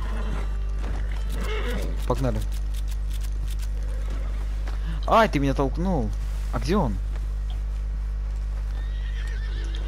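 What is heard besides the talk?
horse neighing and hooves, from a video game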